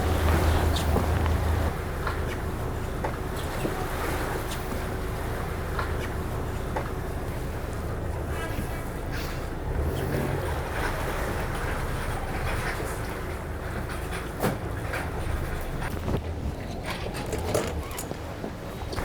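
A catamaran is held on its engines while mooring, a steady low engine rumble mixed with wind and water noise that continues evenly throughout.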